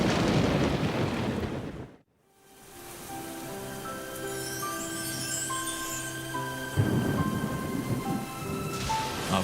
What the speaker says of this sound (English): the animals of the high country now find themselves lashed by storm and heavy rain